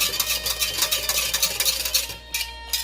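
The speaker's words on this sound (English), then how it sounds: "I'm whisking it" Play dough mixture for an apple pie batch being whisked in a bowl, a steady run of quick scraping, clinking strokes close by that slow and stop near the end.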